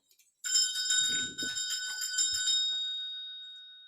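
A small bell rings out clearly, struck in several quick bright dings, then left to ring out and fade slowly over a couple of seconds.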